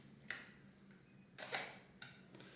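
A Canon 7 rangefinder camera firing its cloth-curtain shutter, three faint, crisp mechanical clicks spaced apart in a quiet room, the middle one the loudest.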